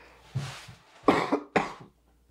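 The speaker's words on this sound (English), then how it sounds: "Both of them are coughing." A few harsh coughs in quick succession, close and fairly loud, with a soft throaty rasp before them.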